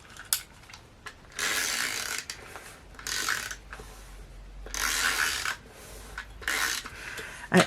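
A Stampin' Up Snail adhesive roller laying tape during card making, several short ratcheting, gear-like rolls close up, separated by brief quiet gaps.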